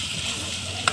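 Chicken curry being stirred as it fries in a pan, a steady soft sizzle with faint scraping, ending in one short sharp clink of the spoon against the pan.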